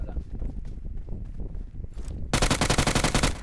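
Gunfire in a mobile battle royale game played on an iPhone 12 in a tournament match: scattered shots and footsteps under a player's voice, then a loud rapid automatic burst firing in a steady rhythm to the end.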